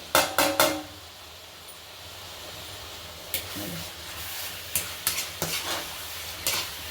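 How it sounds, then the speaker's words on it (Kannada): A spoon stirs carrot halwa and dry fruits frying in a pan, with a soft sizzle underneath. Sharp clacks of utensil on metal come in bursts at the start and again later. "ಇವಾಗ ಇದು ಚೆನ್ನಾಗಿ ಮತ್ತೆ ಮಿಕ್ಸ್ ಮಾಡಿಕೊಂಡು ಫ್ರೈ ಮಾಡ್ಕೊಳ್ಬೇಕು"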